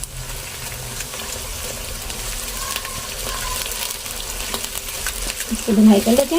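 Onions and ginger garlic paste fry in a pan with a steady low sizzle throughout and a few light stirring scrapes toward the end, while someone speaks briefly over it.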